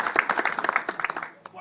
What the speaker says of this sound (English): we should give him a clap for being done